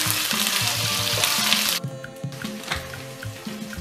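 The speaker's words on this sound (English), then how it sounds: "I will start to fry the onion till it's soft." Sliced onion fries in a pan, a loud crackling sizzle that cuts out briefly and returns softer, with stirring and scraping at a steady pace.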